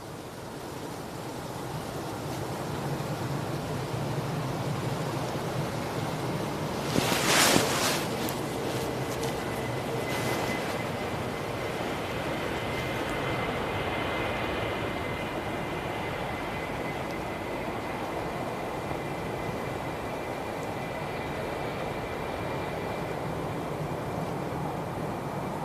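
A Jet2 Boeing 757 at Manchester Airport produces a broad, steady roar of jet engine noise that holds for the whole stretch, distant to moderate in loudness, with a brief louder knock partway through.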